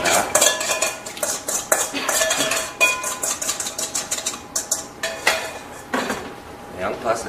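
Clattering of metal pots and utensils as onion, celery, cinnamon sticks and other stock ingredients go into a cooking pot, a run of close, irregular knocks and clinks.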